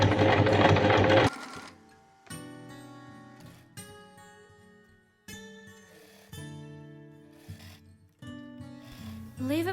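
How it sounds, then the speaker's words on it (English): A sewing machine stitches fabric for a strawberry plush pillow in several bursts of steady whirring, alone and close, pausing between runs. "Sew along the line from the pattern trace before seam allowance."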